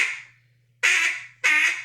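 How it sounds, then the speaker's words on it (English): A duck call blown with a raspy tone gives three loud, harsh quacks: one fading at the start, then two more after a pause, each bright and ringing. "raspy is what they, duck call guys refer to that as."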